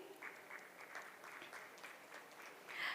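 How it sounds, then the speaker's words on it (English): Audience applause welcoming panelists onto the stage at a global investors meet, a steady, moderately quiet patter of clapping from a crowd that swells slightly near the end. "With a round of applause, please join me in welcoming our panelists on stage."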